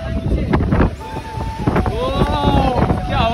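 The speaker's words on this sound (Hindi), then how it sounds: "क्या हवा चल रही है भाइयों" Wind gusting beside the Ganga river, loud buffeting rumble against the microphone with rushing air, while people talk nearby.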